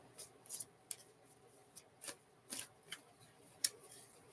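Tarot cards being shuffled by hand, heard as quiet, sparse clicks and snaps at uneven intervals over a faint, hushed room background, with no talking.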